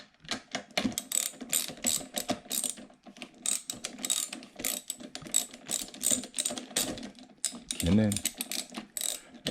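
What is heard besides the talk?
ratchet tightening spark plug on Honda EU2000i generator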